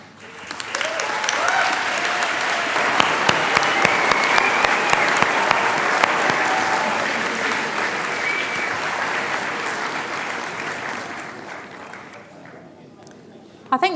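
A large graduation audience at a medical school ceremony applauds steadily for several seconds, with dense clapping that fades out near the end.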